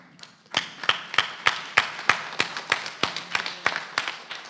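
A few audience members clap at a labor panel summit, a sparse, regular series of about a dozen sharp claps spread over several seconds, fairly close and alone without talk.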